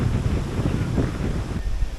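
Gusty wind at a beach campsite at Narlı near Erdek buffets the microphone with a rough, low roar that rises and falls, loud and close, with a surf-like wash beneath.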